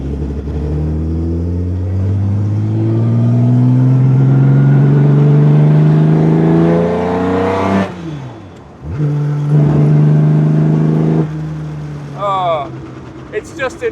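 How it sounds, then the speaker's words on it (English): Engine of a genuine 1950s Jaguar D-Type racing car being driven, loud and close, rising through a long revving pull, a brief gear change dip, then steady running and a few sharp blips. "I have never in my wildest dreams thought I would be driving a genuine Jaguar D-Type one day."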